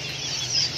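Chickens cluck softly and steadily at a bird and poultry shop, a brief close murmur of fowl sounds over a busy background.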